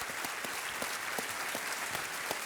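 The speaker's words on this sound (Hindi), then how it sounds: "तालियां बज जाए इनके लिए, इनके संस्कृत ज्ञान की वजह से।" Studio audience applause on a Hindi TV quiz show (Kaun Banega Crorepati), a dense steady wash of many hands clapping, loud and continuous with no talk over it.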